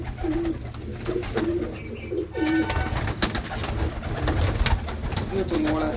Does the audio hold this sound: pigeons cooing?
yes